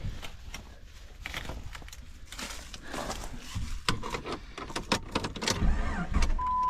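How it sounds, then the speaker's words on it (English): A Jeep Grand Cherokee off-road rig with a 4-liter engine cranks over in uneven, clicking and whirring bursts that grow louder toward the end, close by, with no speech. "Oh, she cranks."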